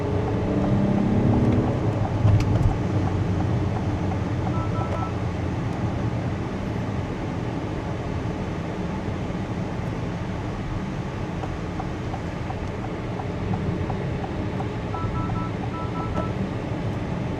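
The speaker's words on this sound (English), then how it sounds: "There is a little bit of road noise coming in from the 21-inch wheels" Inside a 2026 Acura MDX Type S riding on 21-inch wheels, a steady low tire and road rumble fills the cabin at moderate level, continuous and unbroken with no talking.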